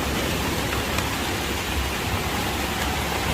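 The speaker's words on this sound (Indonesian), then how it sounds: "Betul-betul ini malam kita dijamu dengan badai dengan hujan deras" Heavy rain from a storm pounds an uninhabited island campsite, a dense, steady roar of downpour that stays loud and unbroken throughout.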